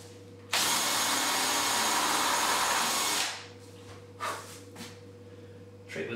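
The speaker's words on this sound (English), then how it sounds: "I always like to drill out the pop rivets" A power drill drilling out pop rivets on a DeLorean dashboard, one loud sustained whirring burst of about three seconds that then stops, followed by a few faint brief bumps and handling noises over a steady low hum.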